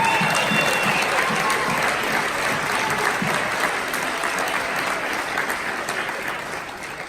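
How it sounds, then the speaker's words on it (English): Sustained applause from an audience at an awards program, dense and steady throughout, gradually fading slightly toward the end with no talking over it. "Come on, everybody, big round of applause."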